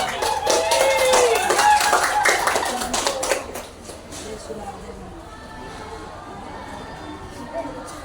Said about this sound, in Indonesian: kita kasih aplaus untuk yang sudah menyelesaikan